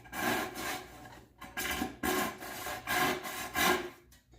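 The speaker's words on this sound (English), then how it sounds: "Got our pull saw out" Steady rhythmic rasping strokes of a pull saw cutting through wood, about seven close strokes with brief pauses between them, no talking.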